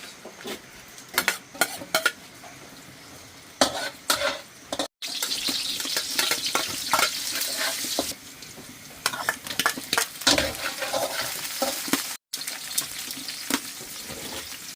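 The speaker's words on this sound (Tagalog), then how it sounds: "Mainit na tong kawali ko. Yan. Yan, lagay ko na sibuyas." Onions sautéing in hot oil in a pan for a catfish adobo, with a steady close sizzle, intermittent spatula scrapes and clinks, and brief pauses.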